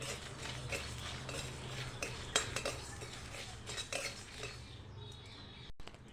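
Spices frying for tamarind pickle, stirred in a pan with a metal utensil, giving soft scraping and clinking strokes that come in irregular bursts over a faint sizzle, fading quieter toward the end.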